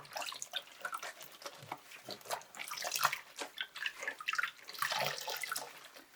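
Wet felted wool rubbed by hand in a bowl of cold water gives a steady, close-up run of soft sloshing, squelching and dripping with no talking.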